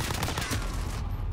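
Gunfire in Call of Duty: Modern Warfare multiplayer, a quick rattling volley of close shots that cuts off after about a second.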